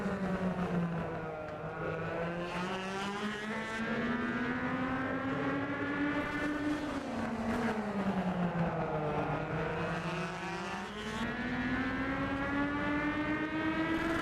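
Legend race cars circling the oval at Atlanta Motor Speedway, a loud sustained engine drone with pitch rising and falling as cars pass, continuous pack noise throughout with no talk.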